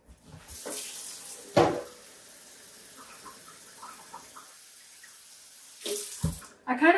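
Tap water runs to fill flower vases, with short gushing bursts of flow and splashing into the containers between quieter stretches, close and clear.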